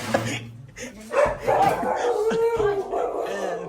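A dog barks and yips in a house, a few short, fairly close calls mixed in with people talking throughout.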